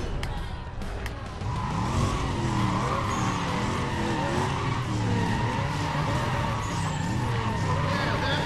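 Tires squeal and skid in rhythmic sweeps as a classic Plymouth race car accelerates hard in NFS ProStreet, the engine droning loudly throughout over a quarter-mile drag run.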